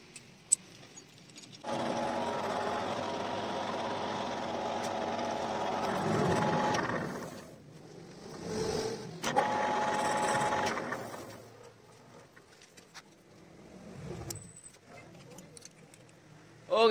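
A lathe machines a hardened crankshaft with weld build-up on it, giving a dense buzzing, grinding drone in two long stretches separated by a quieter pause, with softer mechanical clatter in between.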